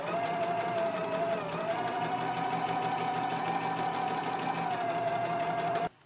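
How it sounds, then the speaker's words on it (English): A sewing machine stitches drawstrings at a scant quarter-inch seam, a steady rapid whirring hum with even mechanical ticking, close and alone, stopping sharply at the end. "I just sewed the drawstrings at a scant quarter of an inch seam allowance"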